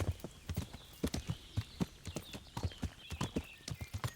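Donkey hooves clip-clop in a quick, uneven run of sharp knocks on a hard surface. The steps sound fairly faint, with no voices.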